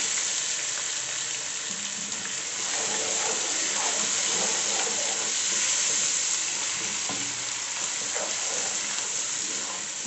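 Garlic-ginger paste sizzles and fries steadily in a pan over low heat, a dense continuous crackle of hot oil with occasional stirring, close and fairly loud throughout.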